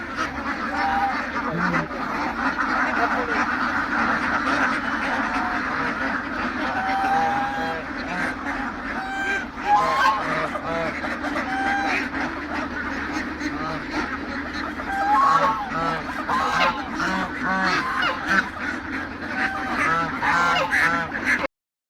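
A dense chorus of ducks and geese on a duck farm in Punjab, Pakistan, quacking and honking continuously, loud and close, with overlapping calls throughout.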